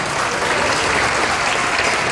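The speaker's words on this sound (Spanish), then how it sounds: "a los cuales les pido antes un caluroso aplauso para ellos," Warm audience applause at a Spanish-language voice acting and narration event, a dense, loud, continuous wash of clapping from a crowd without a break.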